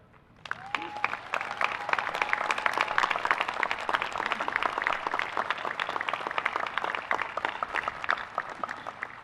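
Audience applause for graduates at the Coast Guard Academy commencement ceremony: steady, dense clapping from a large crowd starts abruptly and holds for several seconds, loud and sustained without pause.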